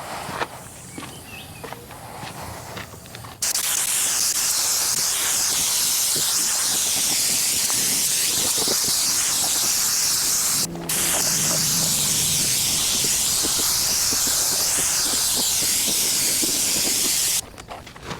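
Continuous loud hiss of a spray gun painting a 1992 GMC 3500 dually truck, running in long steady passes with a brief break near the middle, alone without talk.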